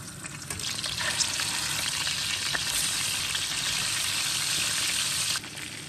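Katla fish heads fry in hot oil with a loud, continuous crackling sizzle that stays steady for several seconds before dropping off sharply near the end.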